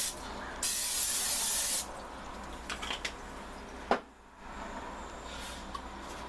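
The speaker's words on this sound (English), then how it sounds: "I'm going to spray it down with some non-stick spray." A short burst of non-stick cooking spray hisses for about a second onto a waffle iron, followed by a few light clicks and a faint thump in a quiet room.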